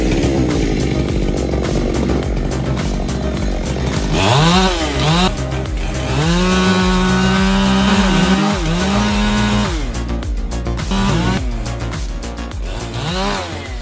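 A big chainsaw cuts into a tall tree, the engine snarling loudly and close, its pitch rising and falling as it revs and bogs through the wood.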